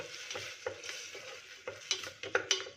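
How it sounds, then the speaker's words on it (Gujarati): Soaked rice being roasted in ghee for doodh pak, with a spoon scraping and clinking against the pan in irregular strokes over a soft, steady sizzle, close and fairly quiet. "હવે આપણે 2 મિનિટ આ ચોખાને અંદર રોસ્ટ કરી લઈએ।"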